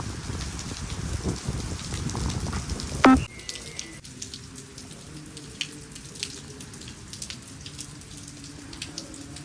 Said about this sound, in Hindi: गाइस देखो बाहर बारिश आ रही है, दिखाता हूँ।